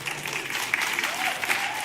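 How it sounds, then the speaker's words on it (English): A church congregation claps for newly married couples in a brief, busy burst of applause that holds steady throughout at moderate loudness. "Why are you clapping for them?"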